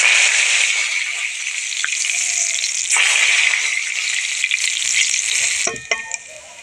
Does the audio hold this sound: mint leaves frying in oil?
yes